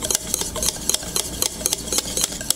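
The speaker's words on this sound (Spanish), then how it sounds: "Voy a revolver muy muy bien." Banana and egg muffin batter stirred briskly in a bowl, a close, rhythmic series of wet scraping strokes repeating quickly and evenly, with no talking.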